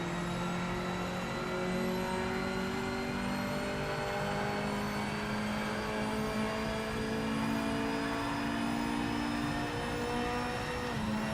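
A BMW race car in the PC racing sim PMR drones at low revs, a steady, moderately quiet engine hum with slowly shifting tones held for over ten seconds without any speech.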